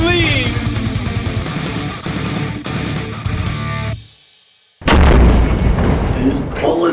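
Gunfire from a low-budget homemade spy movie, loud booming shots and bursts layered over music and dialogue, then a brief drop to near silence before another loud burst of shots.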